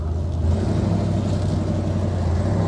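A 1946 Mercury 8 convertible pulls away under throttle, its engine giving a steady, close, low rumbling drone with no talk over it.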